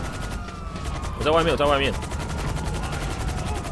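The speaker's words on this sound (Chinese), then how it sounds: "一堆警察往天空中开枪，好恐怖的。" Rapid gunfire from police shooting into the sky in GTA Online, a steady crackle of shots running throughout while a siren-like tone rises midway and a voice briefly speaks over it.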